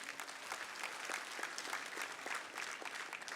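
A crowd claps steadily and densely at Kenya's Mashujaa Day 2024 national ceremony, a sustained wash of many hands applauding from start to end with no voices on top.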